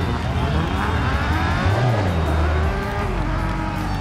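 An Opel Manta 400 rally car in the DiRT Rally 2.0 video game revs loudly and steadily, with its engine note rising and shifting throughout while a voice talks over it.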